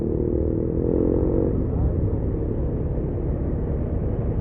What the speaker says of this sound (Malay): Laju je abang-abang bawa motor ni.